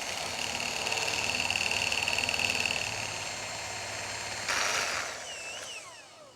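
Soft unsalted butter is whisked into crème pâtissière for a hazelnut praline gâteau, making a steady, continuous whirring churn that holds loud and even, then briefly swells and tails off toward the end.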